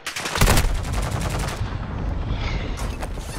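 Enemy gunfire in a video game: a rapid automatic burst at the start, followed by dense sustained firing and rumbling explosions that continue without a break.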